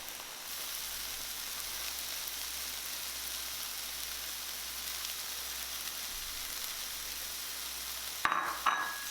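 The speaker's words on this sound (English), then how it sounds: "Add the broccoli slaw now." Broccoli slaw fries in a pan with a steady, even sizzle like light rain, soft and continuous, then a few sharp clattering stirs at the end.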